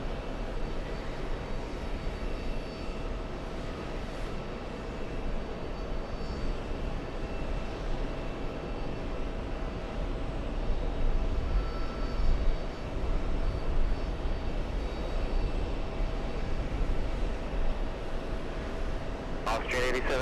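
Austrian Airlines heavy jet from Vienna landing, a steady distant roar of engines throughout with a slight swell midway, under faint background sound.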